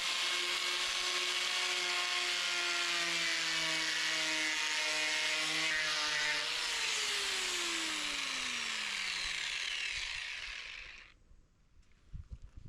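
A power sander fitted with a fresh sanding disc, working on a container home build, whines steadily and loudly for about ten seconds, then winds down with a falling pitch and stops.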